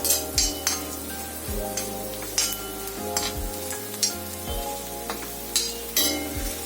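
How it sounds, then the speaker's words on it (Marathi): Onion sautéed with turmeric in a pan gives a continuous sizzle, broken by repeated spatula scrapes and light clinks against the pan at an uneven rhythm. "आता आपण हळद घालूयात त्यात, तीही चांगली कांद्याबरोबर परतून घेऊया"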